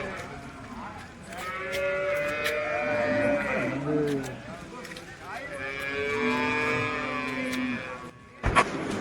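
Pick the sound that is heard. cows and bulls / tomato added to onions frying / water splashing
cows and bulls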